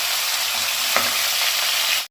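Chicken frying in oil in a pan, a loud, dense, steady sizzle with a faint stirring scrape partway through.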